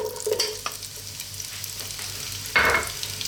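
Onions sizzling in sunflower oil in a large pot, with a steady close frying hiss and a louder burst of crackle and stirring near the end.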